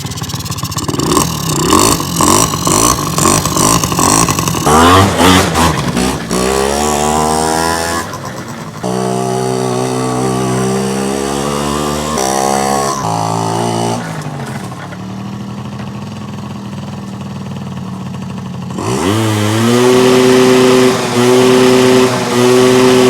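Barn-find quad ATV that sat abandoned for eight years runs loudly and close, its engine revving repeatedly and rising and falling in pitch between rough idling stretches.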